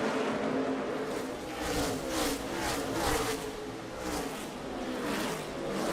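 NASCAR race cars roaring around the track at the Bass Pro Shops Night Race, a dense, loud engine drone that rises and falls in waves as the pack passes, with no talk.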